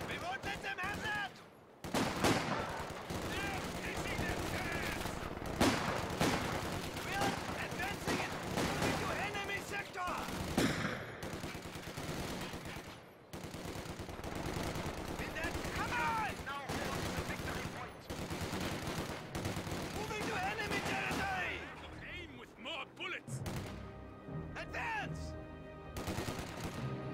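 Gunfire in the World War II strategy game Company of Heroes 2, dense, rapid crackling bursts that run almost continuously at high loudness, with brief drops, layered with game voice callouts.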